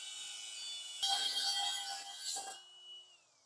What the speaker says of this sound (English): He's going to use the Milwaukee angle grinder with a cutting disc to take that material off.